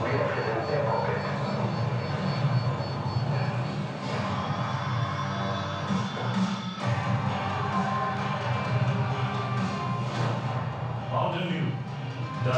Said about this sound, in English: Aircraft 2 incoming.